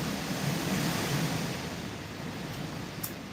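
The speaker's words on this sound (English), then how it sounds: "That's the wind." Strong wind blowing hard outdoors, a steady broadband roar buffeting the microphone, loud and continuous with surging gusts throughout, no voices.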